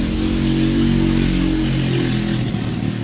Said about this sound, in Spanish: Perdón, pasó una moto.